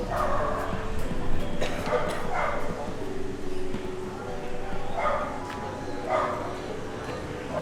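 A small dog yips and barks several times amid a busy street scene in Vietnam, with people talking nearby and steady background noise throughout.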